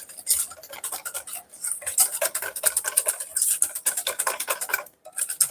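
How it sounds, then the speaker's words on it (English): A whisk beats egg white and sugar in a bowl, fast rhythmic clinking and scraping against the sides, close and continuous with brief pauses. "add the sugar to the egg white, you make sure you whisk quickly to prevent crystallization"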